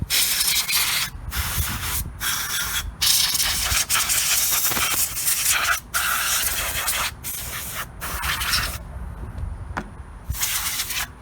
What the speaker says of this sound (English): this would be a good time to like really do a good clean job of blowing the air around it